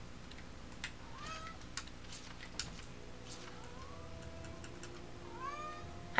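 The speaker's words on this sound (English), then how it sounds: "You say meow meow." A cat meows a few times in a room during a Tales of Zestiria game session, soft and somewhat distant, with faint rising calls over a low hum of game sound and no speech.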